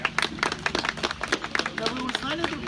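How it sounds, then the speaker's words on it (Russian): Audience applause at a rally-sprint briefing, several seconds of crisp clapping from a small crowd, with voices speaking over it. "но ваши аплодисменты"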